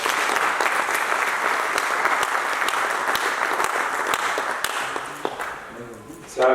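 A congregation at a French-language gospel service applauds in a dense, steady round of clapping that fades after about five seconds, followed by a brief voice.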